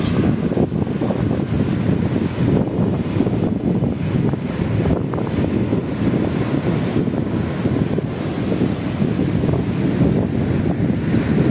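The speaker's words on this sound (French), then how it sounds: "il y a tous les embruns qui arrivent avec le vent" Strong wind and sea spray at the seaside in Quiberon, with a loud, continuous roar of gusts buffeting the microphone over crashing surf and no voices.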